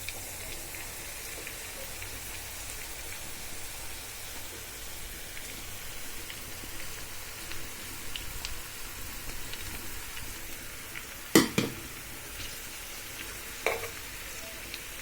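Okra coated in salt, turmeric and coriander powder fries in a pan with onion, garlic and green chilli, giving a soft, continuous sizzle with a couple of brief utensil clinks near the end.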